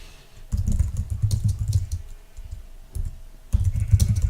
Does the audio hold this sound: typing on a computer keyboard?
yes